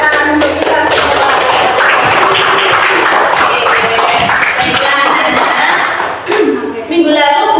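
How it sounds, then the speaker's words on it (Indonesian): Classroom applause from students during a lesson, steady, close clapping with taps and thumps throughout, briefly dipping near the end, with some voices mixed in. "terima kasih tepuk tangan untuk kita semua"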